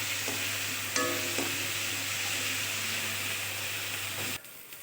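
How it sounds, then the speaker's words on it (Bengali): Spice paste of turmeric, ginger, cumin and dried chili with salt being stirred and fried in a pan for a Bengali fish curry, a steady close sizzle with a few scraping stirs, cutting off near the end. "এবার ভালোভাবে নেড়ে চেড়ে মশলাটাকে কষিয়ে নেব।"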